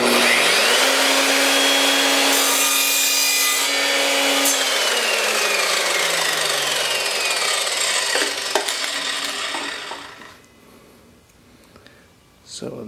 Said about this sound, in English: Let's try the PVC, see how that works out.